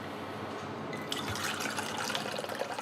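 Water is poured into a container on a scale while weighing 650 millilitres for pizza dough with a kilo of flour. A steady splashing, filling sound builds after the first second and runs to the end, close and moderately loud.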